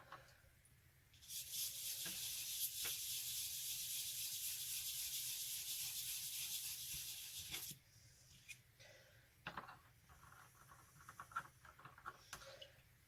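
Wet sandpaper rubs over a jesmonite terrazzo candle holder in a steady, continuous hiss for several seconds, then gives way to quieter, intermittent scrapes and taps.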